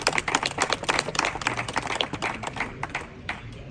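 Dense, fast clapping from a speech audience, many hands together in a steady crackle that stays loud and then thins out slightly toward the end.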